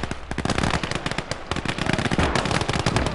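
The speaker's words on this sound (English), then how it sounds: "Here comes the heavy artillery." Heavy artillery barrage in the World War II video game Call to Arms: Gates of Hell, set on a winter Eastern Front, delivering a dense, loud, continuous stream of rapid booms and cracking blasts with no talk.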